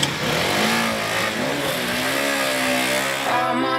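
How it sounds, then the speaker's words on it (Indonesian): A Honda Supra GTR 150 motorcycle engine revs and accelerates steadily on a ride, its rising, rough engine note loud and close throughout with no talking. "riding pakai motor Honda Supra GTR 150 ini seru abis, Kas. Gaspol terus"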